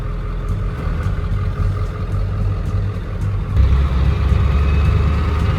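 A Ford F250 with the 7.3 diesel rumbles steadily close by as it sets off, the engine note thickening and growing louder partway through as the truck pulls away, with no talk.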